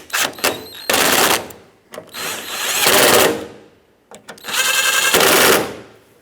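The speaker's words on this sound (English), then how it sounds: "Once all the bolts are in, snug them all up." Three loud bursts of a power tool driving and tightening latch bolts on a Ford E-350 cargo door, each a rapid buzzing run of a second or so, separated by short pauses and brief clicks.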